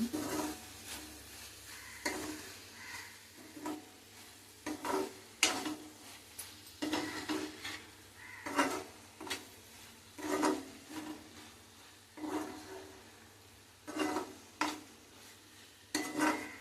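Ridge gourd and moong dal curry being stirred in a pan, spoon scraping and knocking in irregular strokes with soft clatter, close and fairly quiet with no voices.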